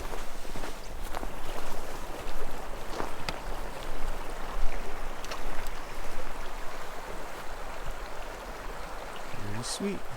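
Footsteps crunching down an outdoor trail toward the water on a fly-fishing outing, irregular steps close by over a continuous flowing-water wash, with occasional sharp knocks.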